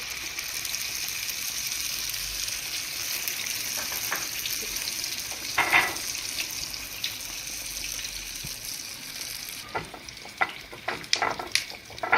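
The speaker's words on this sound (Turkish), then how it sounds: "Şimdi yağım da kızdı. Yandı iyice. Yağın içine atıyorum." Dough pieces dropped into hot oil, with a continuous close sizzle and crackle throughout, a brief louder burst midway and clattering, splashy handling noises toward the end.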